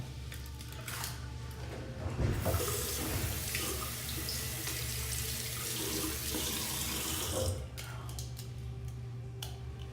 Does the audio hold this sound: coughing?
no